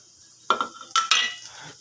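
Cumin seeds go into a kadai, or wok, with a few sharp metallic clinks and scrapes of a utensil against the pan, heard close up in two quick bursts.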